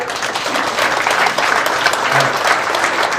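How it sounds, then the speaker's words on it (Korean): Dense, steady applause from a large audience at a national church fellowship gathering as a pastor is introduced, loud and continuous throughout with no pauses. "김남주 목사님, 박수해 주십시오."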